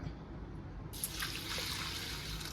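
Flattened rice (aval) being washed in water in a vessel, a steady, close wash of running and swishing water that brightens and grows fuller partway through.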